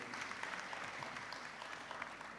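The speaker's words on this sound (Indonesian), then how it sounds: "Tepuk tangan dulu, harus semangat lalu" Faint, steady applause from an audience at a cultural visit and community dialogue event with Indonesia's Minister of Culture, a dense patter of clapping heard at a distance and continuing throughout.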